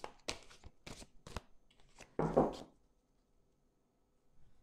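Tarot cards are cut and handled close up: several soft, papery slaps and riffles come in short bursts, followed by a longer rustle and then quiet.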